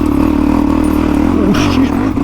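A Suzuki DRZ400E dirt bike fitted with a Cylinder Works 434cc big bore kit runs loud and close with a steady engine drone, briefly changing pitch near the end as it labours.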